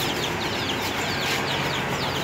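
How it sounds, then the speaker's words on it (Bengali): Pigeons inside a small Bangladeshi pigeon shop selling pairs, including Giribaz birds, give a dense, continuous chorus of cooing and fluttering calls close by with no talk. "ভিতরে অনেক রকম কবুতর দেখতেছি।"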